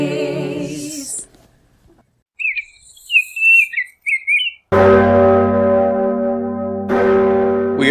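Birds chirp and whistle in bright, scattered calls, then a resonant bell rings in two clear, sustained strikes whose tones hang and overlap, loud and close.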